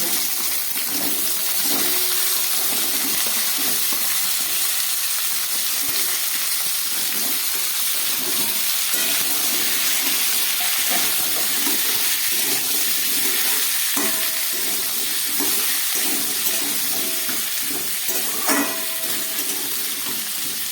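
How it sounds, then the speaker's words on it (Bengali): Mixed vegetables fry in a pan after whole spices are tempered in oil, giving a steady close sizzle that runs without a break, with light stirring and scraping knocks layered over it. "এই সবজিগুলোকে আমি এখন অনেকক্ষণ করে ভেজে নেব।"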